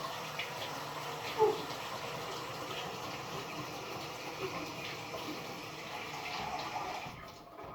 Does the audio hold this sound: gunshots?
no